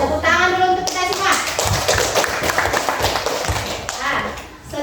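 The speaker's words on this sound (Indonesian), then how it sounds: "Tepuk tangan dulu untuk kita semua." A classroom full of people clapping together, a burst of lively applause mixed with children's voices, close and loud, fading out near the end.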